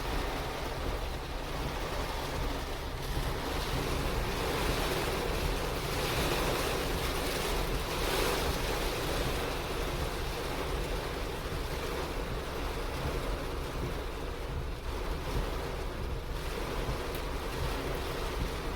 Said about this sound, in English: the rain just pouring down off my car